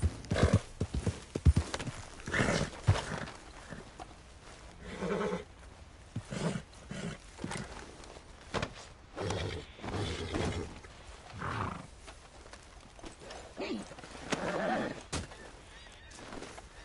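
Steady clip-clop of horse hooves with occasional whinnies, under shouting voices and synthetic game-style sound effects in the video game Red Dead Redemption.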